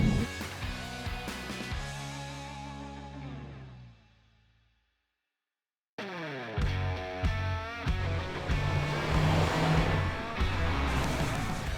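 A Toyota GRMN Yaris engine pulls hard while driving, revving up through the gears in rising sweeps, then cuts out for a couple of seconds before roaring back loud and close with more climbing revs.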